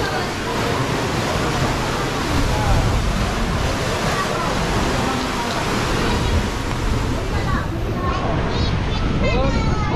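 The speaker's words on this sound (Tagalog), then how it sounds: "sobrang lakas ng alon." Strong ocean waves at Boracay crash and wash continuously, a loud, dense roar of surf with wind filling the whole stretch.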